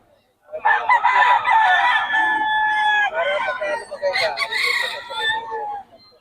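A stag, a young rooster, crows loudly and close by in one long drawn-out call with a ragged, broken ending, heard at a market.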